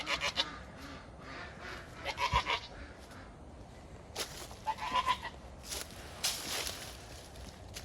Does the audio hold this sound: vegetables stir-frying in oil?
no